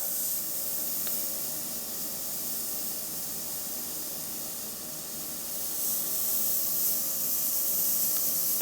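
A single-action airbrush with a stiff trigger sprays a steady, thin hiss of air, continuous and close, with a few faint clicks.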